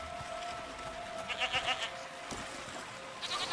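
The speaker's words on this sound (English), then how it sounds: "But what are these goats doing in the open?" Goats bleating in the video game Season: A Letter to the Future, out in open country with no village nearby; a few short bleats come through at moderate volume over a steady ambient background.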